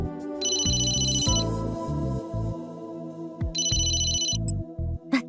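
Two bursts of an electronic phone ring in the Famicom Detective Club video game, each a quick trilling warble, separated by soft game tones and musical blips, with no voices.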